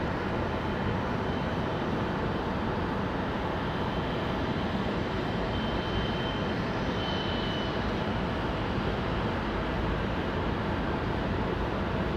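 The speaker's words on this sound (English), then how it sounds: "Sounds like another helicopter." Steady, broadband engine roar of a helicopter passing overhead near Raleigh-Durham International Airport, constant and moderately loud throughout with no talking.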